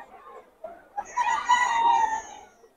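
A young gamecock stag crows once, close and loud, after a few soft clucks. The crow rises into a drawn-out, harmonic call that fades after about a second and a half.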